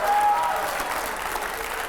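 Steady, dense applause from a studio audience during a political interview fills the whole moment, loud and continuous with no distinct voices standing out.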